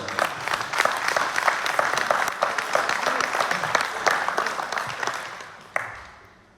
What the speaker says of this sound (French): je vous demanderai de l'applaudir quand même